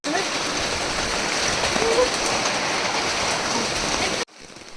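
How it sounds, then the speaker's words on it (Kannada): Heavy rain pours onto a shed in a Malnad village plantation, a dense, loud, continuous roar of drops drumming close overhead that cuts off abruptly near the end. "ನೋಡಿ ಈಗ ಶಬ್ದ ನಿಮಗೆ ಕೇಳಿಸ್ತಿರ್ಬೋದು, ಜೋರು ಮಳೆ ಬರ್ತಾಯಿದೆ"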